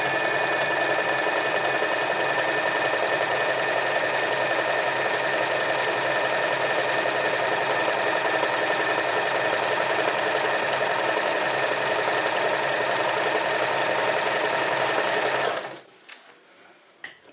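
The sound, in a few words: overlock sewing machine stitching fabric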